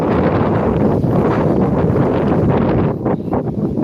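Wind blows across an open farm field, a loud, steady rush buffeting the microphone with no speech.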